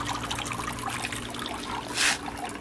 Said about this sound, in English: it would be nice to have the sound of trickling water